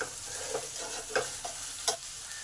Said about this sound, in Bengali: এই বাটা মশলাটাকে ভালো করে কষতে হবে 8-10 মিনিট ধরে